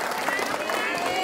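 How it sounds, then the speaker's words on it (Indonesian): A crowd of mothers and other attendees claps at a pre-dawn Ramadan sahur religious gathering, a dense, steady patter of many hands that holds evenly for a moment. "Tepuk tangan untuk ibu-ibu."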